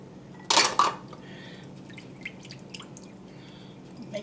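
Water is poured into ketchup in a cast iron pan, giving a brief splashy burst near the start, followed by faint clinks and liquid movement in a quiet kitchen.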